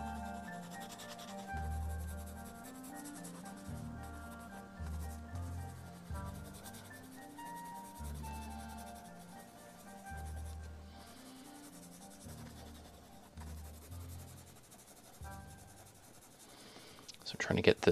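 Pencil sketching on paper during gesture drawing, soft repeated scratchy rubbing strokes in uneven bursts, close and quiet, with low musical tones playing underneath.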